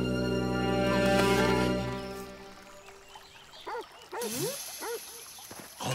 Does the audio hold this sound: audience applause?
no